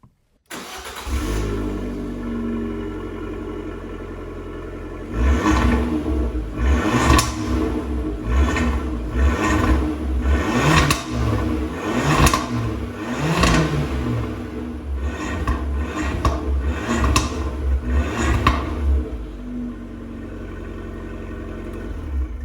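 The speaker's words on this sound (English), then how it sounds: "Let's start her up and I'll show you what I mean." A 2017 Abarth 595 starts up with a crank and catch, then its small turbocharged engine rumbles loudly through the exhaust with several sharp revs and pops before settling back to a steady idle.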